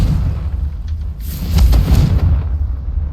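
A Confringo explosive spell detonating in the video game Hogwarts Legacy, a loud deep boom with a crackling burst that swells for under a second before fading into low rumble.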